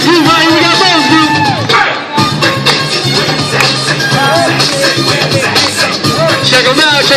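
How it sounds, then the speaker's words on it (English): Loud crowd cheering, whoops and clapping for a breakdancing group, a lively roar with shouting voices and children's cries running throughout, dipping briefly near the two-second mark. "Give them a good round of applause"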